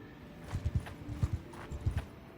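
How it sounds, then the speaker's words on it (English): A horse in Mount and Blade 2: Bannerlord gallops in quick rhythmic hoofbeat clusters, with close, punchy clip-clops repeating in groups over a quiet background. "I have a fucking horse"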